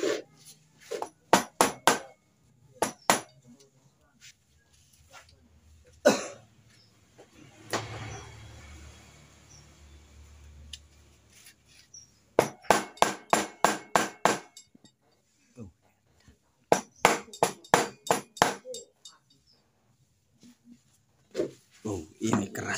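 Sharp metal hammer blows strike the skewer bolt on a Satria FU 150 carburetor to drive it out. They come in quick bursts of several hits, separated by pauses filled with someone talking and quieter workshop noise.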